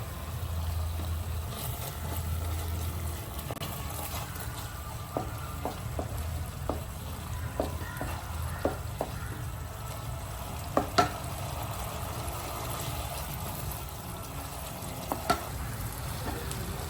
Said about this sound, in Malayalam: നമുക്ക് ഫസ്റ്റായിട്ട് നമുക്കിതിൽ വറ്റൽമുളക് ഇട്ട് കൊടുക്കാം